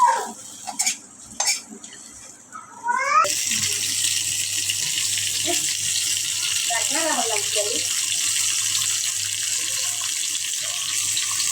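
Running tap water splashes steadily into a sink while fish is washed by hand in a home kitchen, a continuous close rush after a few brief clinks and handling noises at the start.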